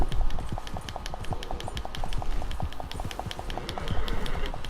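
A slower horse in Red Dead Redemption 2 Online gallops with rapid, steady hoofbeats, the rhythmic clip-clop loud and close throughout with no talk over it.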